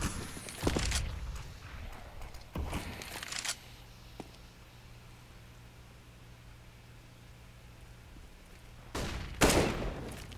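Gunfire bursts from a Counter-Strike match on the Mirage map, including a headshot on a teammate: a few sharp broadband cracks near the start and around the middle, then quieter ambience with a low hum before more loud shots near the end.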